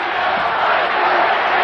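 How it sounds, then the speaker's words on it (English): A 1986 WWF Superstars wrestling arena crowd chanting, a dense, loud, steady roar of many voices filling the space without a break. "We want Piper, they're yelling."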